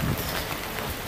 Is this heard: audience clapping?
no